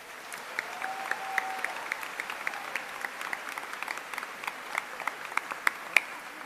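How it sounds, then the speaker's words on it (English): Applause at a university convocation ceremony, a soft, sustained patter of many hands heard from a distance, with scattered sharper claps and a whistle or two standing out. "how about one more great round of applause for everybody who spoke today?"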